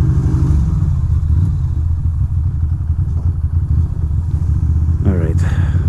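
A Ducati Monster motorcycle engine runs loud and steady at close range, with a low rumbling idle and a brief rise near the end.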